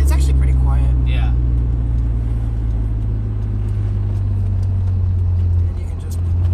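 Car exhaust fitted with Magnaflow mufflers in place of the stock ones gives a deep, steady low rumble close by, holding evenly throughout with a brief dip near the end, while voices are faintly present early on.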